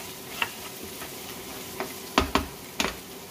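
Ginger garlic paste sautés in a pan for mutton kheema, with a soft background sizzle broken by a few sharp taps and scrapes of a utensil against the pan, spaced irregularly and close by.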